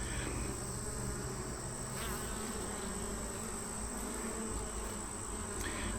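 Dense, steady hum of honeybees and drones buzzing inside a hive, a continuous close drone with a few brief rises, no talking.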